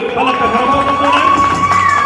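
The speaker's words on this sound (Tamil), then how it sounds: "பலத்த கரகோஷத்துடன்." An audience at a Tamil New Year community celebration in Buffalo, NY cheers loudly, with a dense crowd roar, raised voices and shouts filling the short burst at close range.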